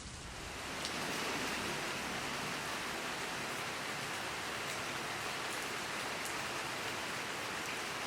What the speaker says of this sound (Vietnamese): Mưa